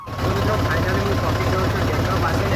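A farm tractor's engine runs steadily near a village pond, a loud low rumbling drone with a knocking pulse that holds for the whole stretch, with no speech over it.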